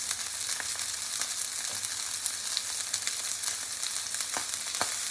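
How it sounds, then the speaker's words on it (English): A stuffed pork loin sears in a hot skillet, a loud, dense, continuous sizzle and crackle with occasional sharper pops, close up and unbroken by speech. "I'm going to bake it right in this skillet, because it's able to also fry it here"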